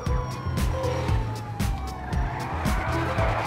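A Batmobile in GTA V does a burnout, its engine revving hard in repeated surges while the tires squeal continuously and a police siren wails in the background.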